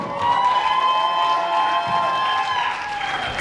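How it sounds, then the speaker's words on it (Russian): Audience at a KVN comedy-team university final cheers and claps in a large hall, a dense, steady roar of applause with shouting voices that holds loud throughout. "Болельщики, еще раз громкие аплодисменты."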